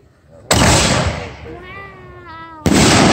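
Two loud, sharp firework blasts roughly two seconds apart at a farm, with a faint whining tone in the gap between them.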